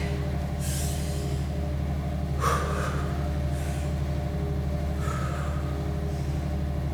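Breathing in and out during a beginner-to-intermediate Pilates exercise: a few close, airy breaths come at uneven intervals over a steady low background hum.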